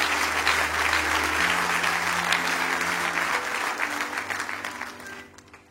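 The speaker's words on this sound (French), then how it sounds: "Acclame quand même." A church congregation applauds at a sermon, a dense, loud, steady wash of clapping with faint low tones underneath, tapering off toward the end.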